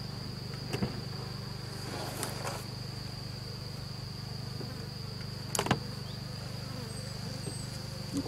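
A small swarm of honeybees hums in a low steady drone with a thin high whine above it, continuous and fairly faint, with a couple of brief nearer buzzes passing by.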